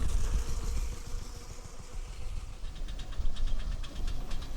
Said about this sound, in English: A Sentinal DG4 steam wagon next